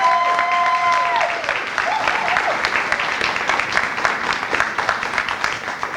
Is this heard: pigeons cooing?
no